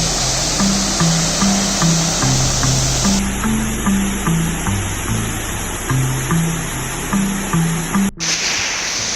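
Waterfall on the Four Waterfalls Walk in the Brecon Beacons, a constant loud rush of falling water heard close up, without talk.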